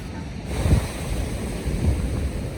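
Pacific Ocean surf at Mission Bay beach in San Diego, a steady broadband wash with two soft swells of breaking waves, wind rumbling against the microphone, no voices.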